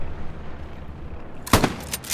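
A single sharp gunshot cracks out partway through a short-range World War II combat video game, preceded by quiet low background rumble and followed by a few fainter echoing reports.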